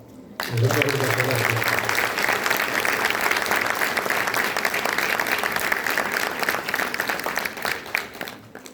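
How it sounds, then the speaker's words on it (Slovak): Concert audience applauding steadily at a Slovak folk singing concert, dense clapping throughout that fades slightly near the end. "Vám, milé obecenstvo, ďakujeme za potlesky, ktorými ste fandili našim spevákom a hudobníkom"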